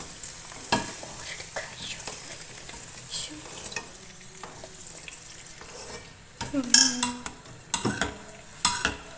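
Cashews and raisins roast in a pan for semiya payasam, giving a soft sizzle broken by sharp spoon scrapes and clinks, which grow louder and more frequent toward the end.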